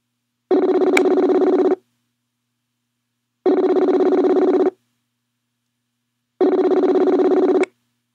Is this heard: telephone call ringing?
yes